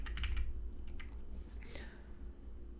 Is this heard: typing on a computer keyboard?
yes